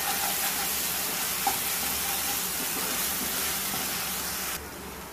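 Masala frying and spluttering in a pot while mutton Afghani is being cooked gives a steady, dense close-up sizzle with one small pop. The sound softens slightly near the end.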